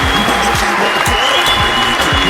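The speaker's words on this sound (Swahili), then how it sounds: "Wapi makofi tena" An audience claps in a sustained, loud burst of applause that fills the whole stretch, dense and continuous with a few sharper thumps.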